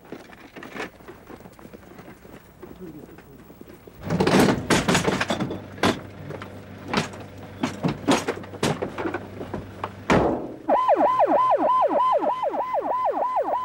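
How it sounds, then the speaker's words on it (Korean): An ambulance siren starts up near the end with a loud rising-and-falling wail, after a door slams shut and clattering thuds at an accident scene where a mobile grocery truck had a flat tire. "구급차가 병원으로 향한 뒤"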